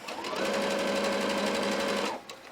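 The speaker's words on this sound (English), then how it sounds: "So I'm going to sew to that dot and stop with my needle down." A sewing machine runs a triple stretch stitch along a hoodie shoulder seam, a steady close motor whir with rhythmic needle tapping for about two seconds before stopping.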